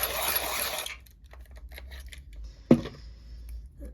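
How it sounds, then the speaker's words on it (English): A coloured pencil being sharpened by hand, a scratchy grinding rasp for about a second, then quiet with faint handling clicks and one sharp tap. "Sharpen my pencil."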